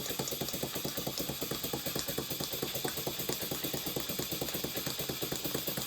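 Small engine running in a workshop, a quiet, steady rapid ticking and chuffing beat with a regular mechanical rhythm, heard at moderate distance without talk.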